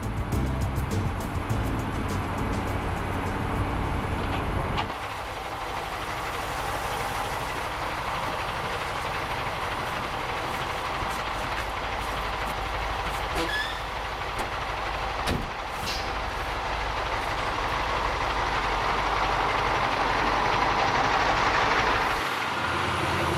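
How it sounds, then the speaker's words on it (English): Steady heavy engine drone and road rumble inside the cab of a big Kamaz timber truck hauling a load along local forest roads, continuous and loud throughout with a brief low thump midway and no talk. "These massive Kamaz trucks are a common sight along the local roads, and I decided to hitch a lift with the latest load."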